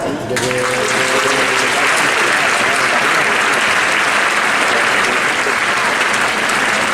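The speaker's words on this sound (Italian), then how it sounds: "Un applauso" Loud, dense applause from an audience for a student ensemble at a school concert, continuous throughout, with a brief voice over the opening.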